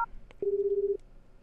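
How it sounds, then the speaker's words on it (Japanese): Telephone dialing in the dating game Tokimeki Memorial Girl's Side 2nd Kiss: a short beep, then a single sustained touch-tone note lasting about half a second, clear and alone with no voices. "とりあえずクリスに電話して、"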